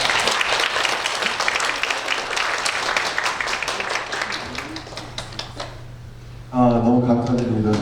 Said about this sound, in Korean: 우리 간증할 때 큰 박수로 환영하도록 하겠습니다.